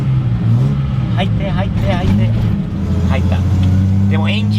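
A Datsun 240Z S30 Fairlady Z engine revs and shifts gears while driving, its low engine drone rising and falling steadily in the cabin as a person talks over it.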